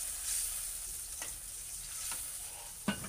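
Food sautéing in a pan gives a steady close-up sizzle with a few soft utensil scrapes, then a sudden sharp hiss burst near the end as water is added.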